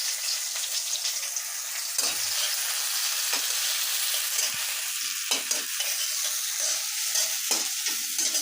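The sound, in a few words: onions frying in oil in a pan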